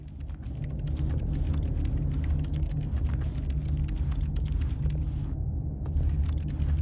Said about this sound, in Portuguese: Não entendi porque dá pra fazer barulho de teclado.